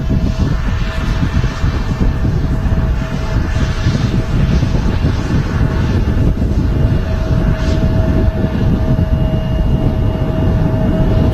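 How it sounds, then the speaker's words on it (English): A Scandinavian CRJ 900 regional jet, four years old, at Manchester Airport, its engines giving a loud, steady broadband roar with a faint constant whine that holds through the whole stretch, with no voices. "was the Scandinavian service to Copenhagen CRJ 900"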